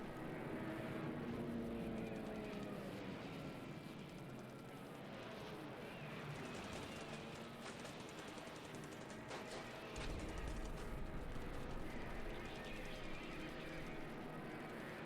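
Simulated B-25 Mitchell bombers in the War in the Pacific strategy game, a continuous droning, roaring aircraft engine wash with rumbling noise, faint and distant-sounding throughout, with a brief rise in low rumble near the end.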